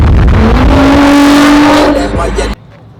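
An Audi 2.7 S4 engine revs hard at a car meet, the pitch climbing loud and close before cutting off sharply, leaving crowd chatter faintly behind.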